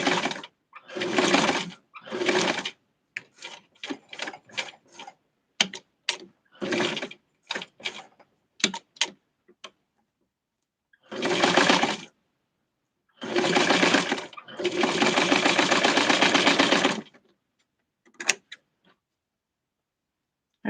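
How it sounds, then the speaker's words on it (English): A home sewing machine stitches darts into a tiny tweed Barbie suit in bursts: short rapid whirring runs separated by pauses, then longer steady stretches, close and loud with no talk. "So I'm going to sew it into place"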